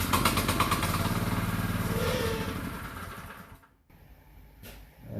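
A small engine with a foam air filter runs on choke, a steady close buzzing putter that falters and drops out near the end before a brief noise returns.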